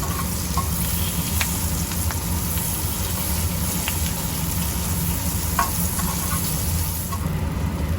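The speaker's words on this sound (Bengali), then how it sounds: "পেঁয়াজটা দিয়ে দিচ্ছি পেঁয়াজটাও ভেজে নেব আমি" Onion frying in hot oil gives a loud, dense, continuous sizzle and crackle throughout, with faint scraping from stirring.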